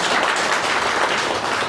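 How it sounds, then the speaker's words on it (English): A seminar audience at an income tax technical session breaking into applause, a dense wash of clapping from many hands, loud and continuous with no speech over it. "can we have a big round of applause?"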